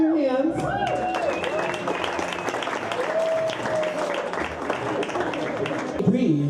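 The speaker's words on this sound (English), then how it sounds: "Clap your hands." Audience applause and clapping at a trans and intersex fashion showcase, dense steady clapping filling the whole stretch with a voice talking over it.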